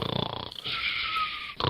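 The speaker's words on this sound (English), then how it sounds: "Snoring." A brief snoring sound from a haunted house game, a raspy, drawn-out inhaled snore between rougher growly breaths.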